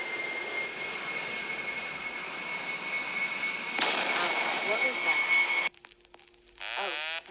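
Loud, steady jet engine roar from an Air France Concorde taking off, a continuous whine and rumble that swells near the end, then cuts to quieter background with a brief trailing sweep.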